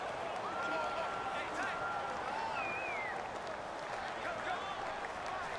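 Stadium crowd noise from the video game Madden 19, a steady broad roar with whistles and cheers running without a break through the whole stretch, loud and continuous, while commentary-like voices sit faintly within it.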